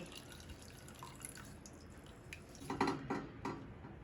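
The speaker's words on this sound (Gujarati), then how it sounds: "આ રીતે પાછું કપડું ભેગું કરી અને આમ કરીને પાણી બધું કાઢી નાખશું" Whey drips and trickles faintly from a cloth being squeezed around homemade paneer curds. There is a quiet patter at first, then a small burst of closer drops and splashes toward the end.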